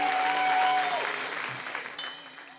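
Studio audience on a French TV variety show, Le Claudy Show, clapping in a dense burst that peaks early and then slowly thins out, with faint musical tones from the house orchestra underneath.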